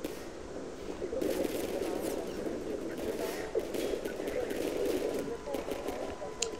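Combine soldiers being shot at in Half-Life 2, with a steady stream of game gunfire and combat noise running through the whole stretch at a fairly constant level, busy and dense rather than isolated shots.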